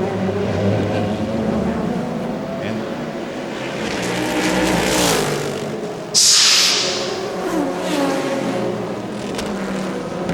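A sports prototype race car at the 2003 Trois-Rivieres ALMS street race accelerates hard with tires scrabbling, engine roar swelling and fading amid crowd and commentary, a sharp burst of squeal partway through.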